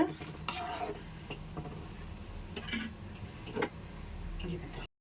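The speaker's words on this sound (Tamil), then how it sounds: "பாருங்க நல்லா கொதிக்குது." A pan bubbles and sizzles steadily, with a few knocks of a spoon stirring, close up, before the sound cuts out abruptly.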